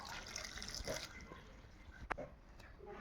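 Water is poured into a mixture of soaked lentils and dried red chilies while making Odia-style crispy lentil fritters, a soft splashing trickle with a few faint drips and clinks, fairly quiet.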